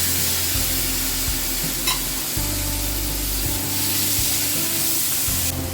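Finely chopped tomatoes fry loudly in a pan with ginger, garlic and green chilli for a mushroom dum biryani, a steady close sizzle broken by repeated scraping stirs.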